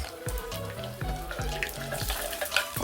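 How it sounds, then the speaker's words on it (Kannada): Mustard seeds, cumin and garlic cloves crackle and sizzle in hot oil in a pan for a tempering, a steady close frying hiss with small pops. "ಪಕ್ಕಕ್ಕೆ ಬಾಣಲಿ ಇಟ್ಕೊಂಡು ಒಗ್ಗರಣೆ ಹಾಕ್ತಾಯಿದ್ದೀನಿ"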